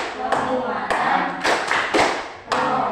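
Children in an Indonesian classroom do the Tepuk P5 clap chant, a group clapping pattern with sharp rhythmic bursts of claps in quick clusters, close and loud, with chanting voices mixed in.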